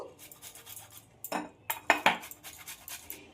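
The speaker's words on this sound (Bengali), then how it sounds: "এবার আমটাকে গ্রেট করে নেব" Raw mango rubbed against a metal grater, heard as a series of short scraping strokes with occasional metallic clinks, close by with no talking.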